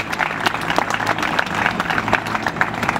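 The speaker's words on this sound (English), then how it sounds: "I think he deserves another round of applause for the great job that this man has done." Wedding guests give a round of applause at a ceremony: steady, dense clapping from a crowd throughout, fairly close and moderately loud, with no clear speech.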